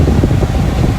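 Inside a 2019 Ford Ranger 3.2 TDCi Wildtrak, the air conditioning fan blows a steady, loud, low rushing whoosh with no other sound.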